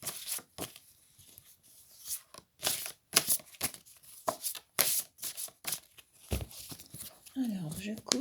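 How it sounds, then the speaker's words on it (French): Tarot cards are shuffled in quick, crisp bursts of riffling and slapping, close and fairly loud, with someone speaking softly between the shuffles. "Donc on mélange les cartes."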